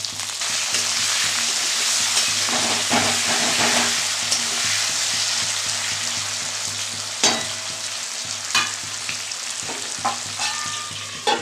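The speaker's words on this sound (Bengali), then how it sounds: "আলুটা ভাজা ভাজা হোক" Washed potato pieces with cumin and salt fry in a pan, a loud steady sizzle with occasional stirring clatters, close and without speech.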